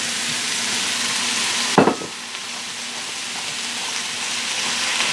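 Potatoes for homemade fries hiss and sizzle steadily in a hot pan, with a loud burst of spitting as they go in, then a continuous close frying crackle with no talking.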